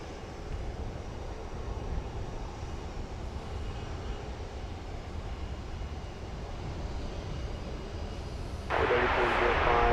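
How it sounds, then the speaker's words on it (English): An Iberia Airbus A330 arriving from Madrid at DFW Airport at night, a low, distant jet engine rumble that grows louder near the end, with voices talking beneath it. "We're going to check out the arrival of the Iberia A330 coming in on the east side from Madrid."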